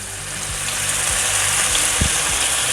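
Ground beef with onion sizzling as it browns in a pan, a loud, steady frying hiss throughout with a few soft scrapes.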